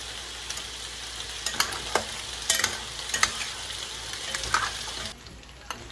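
Pork and calabacitas sizzle in a pan, a steady frying hiss broken by scattered sharp pops and stirring scrapes, close and alone with no talk.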